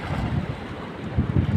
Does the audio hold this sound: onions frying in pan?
no